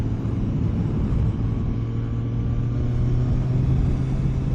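A Kawasaki ZX14R motorcycle with changed sprockets cruises in sixth gear, its engine a loud, steady low drone mixed with rushing wind noise, unbroken for the whole stretch with no talking.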